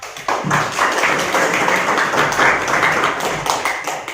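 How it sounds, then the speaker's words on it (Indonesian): Applause for a presenter in a chemistry class: a room of people claps steadily in a brisk, continuous patter for several seconds, with some faint background voices. "terima kasih aplaus untuk Bapak."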